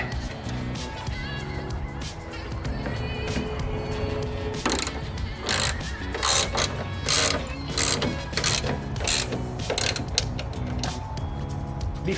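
A hand ratchet clicks in quick repeated strokes while tightening coilover bolts on a Mazdaspeed 3, close by against a steady background hum, with busier clicking runs in the middle.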